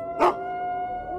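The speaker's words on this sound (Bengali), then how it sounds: "কেবলমাত্র দূর থেকে কিছু শেয়াল কুকুরের ডাক ভেসে আসছে" Distant dogs or jackals howling at three in the night: one short rising cry carries from afar, followed by a long, steady, faint tonal drone with quiet surroundings.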